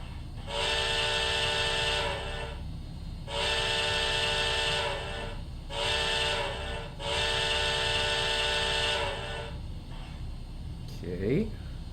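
A model MTH AC-6 cab forward steam locomotive blows its chime whistle in four long blasts separated by short gaps, loud and close. A voice is heard briefly at the end.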